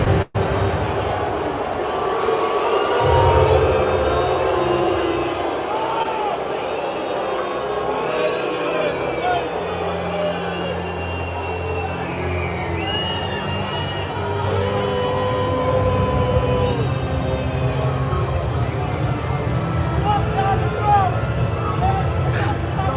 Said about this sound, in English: video, which shows all of the booing